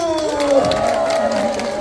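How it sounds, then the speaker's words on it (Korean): At a neighbourhood residents' assembly in Myeonmok 2-dong, the gathered crowd lets out a brief burst of cheering, with raised voices blending into a loud, continuous roar and light clapping underneath. "기대된다면 다시 한 번 환호 박수!"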